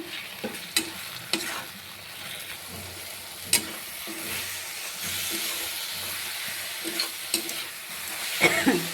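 Mixed vegetables with turmeric, cumin powder and salt frying in a pan, a steady loud sizzle and hiss broken by repeated scraping clacks of a spoon stirring, with no talk.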